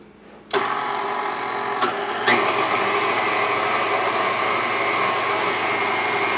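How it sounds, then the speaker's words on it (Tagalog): Electric mixer creaming butter and sugar for cornbread, switching on abruptly with a loud steady whirring whine, then a brief bump and a step up in pitch, running continuously and close. "Gagamit lang tayo dito ng electric mixer."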